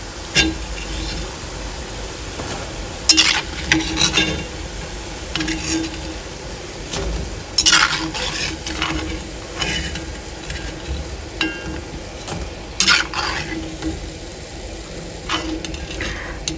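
Vadas deep-frying in oil over a medium to low flame for vada koottu curry, a steady bubbling hiss broken by several sharp clicks and scrapes of a ladle stirring the batch.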